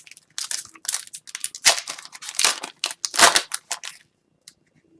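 Upper Deck Series 1 retail hockey card pack torn open by hand, a close run of crisp crinkling foil rips and crackles in bursts, then quiet.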